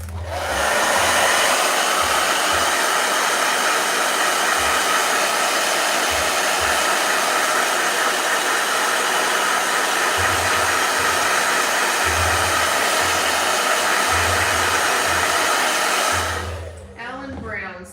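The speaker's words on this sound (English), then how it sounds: "Blow dryer." A hair dryer blows steadily and loudly for almost the whole stretch, a continuous broadband whoosh that cuts off near the end, with faint low bumps beneath it.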